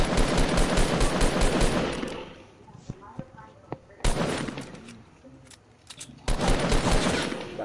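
Gunfire in the survival game 7 Days to Die comes in three long, loud automatic bursts separated by quieter gaps with isolated shots, close by, with people talking in between.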